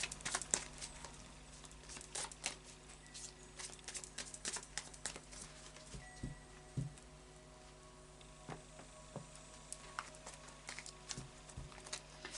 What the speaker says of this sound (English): I'll just do a final shuffle of the Tarot of Dreams.